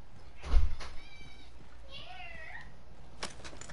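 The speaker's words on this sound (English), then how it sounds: "Oh, that's why you're meowing." A pet cat gives a couple of drawn-out, rising meows at close range after a brief knock or bump, with a faint voice nearby.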